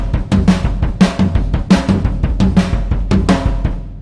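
Cocktail drum kit lick played slowly and steadily with alternating sticking, a close, loud run of drum and cymbal hits at an even pulse, played alone with no talk.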